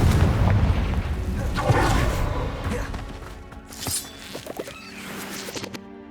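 A Confringo blasting spell in Hogwarts Legacy on PS5 erupts in a deep boom with crackling debris, followed by fainter magical chimes and scattered impacts as the noise fades.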